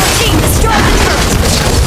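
Turret-destroying explosion in Mobile Legends, a loud dense crash of booming impacts and bursts layered with game effects, filling the short moment with no pause.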